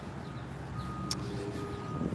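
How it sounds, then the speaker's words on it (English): Faint reversing beeps from a truck sound from a distance, a thin repeating tone set against low street and traffic rumble as a vehicle passes nearby. "I hear a truck beeping"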